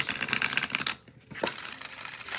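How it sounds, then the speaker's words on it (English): A deck of oracle cards is shuffled in quick, dry riffling bursts, a brief pause, then softer rustling, close and fairly quiet. "Let's give it another shuffle"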